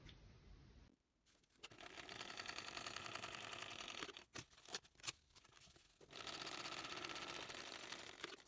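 A sewing machine top-stitches a pocket onto a waterproof canvas bag, running in two long steady bursts separated by brief stops and short stutters, close and clear with no talk.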